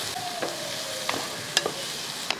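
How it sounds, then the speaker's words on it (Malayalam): Onions sizzle as they are sautéed and stirred in a pan for mutton curry, with a continuous frying hiss and a few scraping, clinking spoon strokes against the pan, close up and without talk. "നല്ലവണ്ണം ഇളക്കി അതായത് ഈ സവോളയും ഉള്ളിയൊക്കെ ഒന്ന് വഴറ്റി വേവിച്ചെടുക്കണം"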